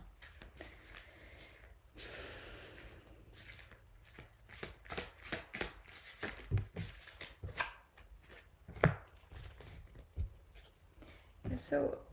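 Tarot cards being shuffled and pulled from the deck: a brief riffle burst followed by a run of quick papery flicks and taps, close and fairly quiet, with no talking.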